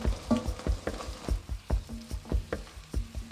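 Butter and garlic fry in a pan during braising prep, a soft sizzle under repeated sharp knocks and scrapes of a utensil stirring, close and rhythmic.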